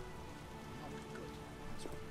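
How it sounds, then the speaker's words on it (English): Steady rain pours down in The Witcher game world, a dense continuous hiss of drops on surfaces with no break across the moment, close and even in level. "They're all hiding here because it's raining."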